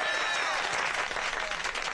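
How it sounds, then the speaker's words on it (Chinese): A crowd claps dense, continuous applause to welcome Judge Bao, close and steady with no break for the whole moment. "大家俾啲掌声"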